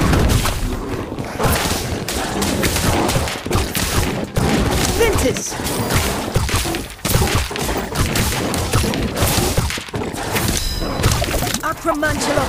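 Ventus wind spell cast in the Harry Potter: Magic Awakened video game: a dense, loud burst of layered magical whooshes, impacts and crackling effects running continuously across the clip, with a brief chime near the end.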